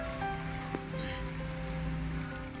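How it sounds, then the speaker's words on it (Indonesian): An electric fan blows to dry screen printing film for boba cups, giving a steady close whirring hum with a faint tonal drone and a single small knock partway through. "jadi saya menggunakan kipas angin"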